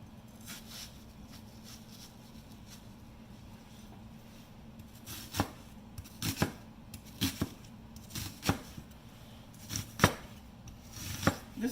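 A Joan Chin cooking knife chopping a large onion on a board, a faint quiet start followed by a run of crisp, irregular chops growing more frequent, close by, with no talking.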